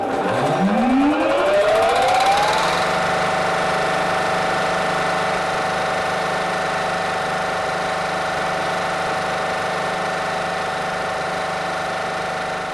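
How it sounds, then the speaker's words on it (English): A Bauer Mariner high-pressure breathing air compressor starts up with a rising whine that climbs over about two seconds, then settles into a steady, loud mechanical drone with constant hum and no talk. "First, I activate the main switch to start up the compressor."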